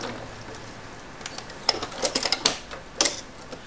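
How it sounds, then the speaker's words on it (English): A sewing machine stitches small circles twice around butterfly wing shapes on a quilt, in short bursts of quick mechanical tapping, close and fairly soft, with pauses between runs. "I'm just going to stitch around those twice."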